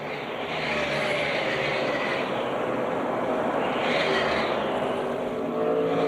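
NASCAR Cup race cars roar around the Phoenix oval as a continuous, somewhat distant engine drone, swelling and fading in long sweeps as the cars pass.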